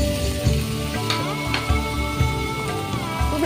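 Dried red chillies fry in oil in a pan, giving a steady, moderately loud sizzle. Soft rhythmic tool knocks and background hum sit under it, and no one speaks.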